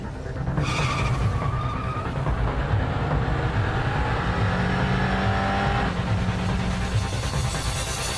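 Street race cars at a night street race accelerate hard and skid, a loud continuous engine roar with tire screech and rising revs, heard from close by without talk.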